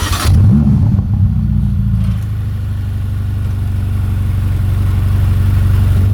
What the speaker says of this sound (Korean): 시동 소리 한번 들어보시죠.